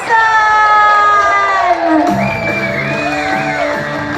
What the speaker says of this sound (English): Pacific Explorer, please raise the roof, make some noise for our incredibly funny friend Steve Alliso